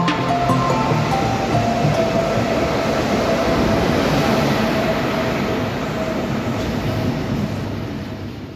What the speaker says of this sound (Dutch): aangekomen op het station van Landen